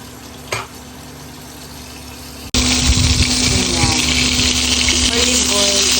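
Olive oil and butter hit a hot pan and burst into a loud, continuous sizzle that holds steady to the end, with a few clinks before it and a person speaking over it.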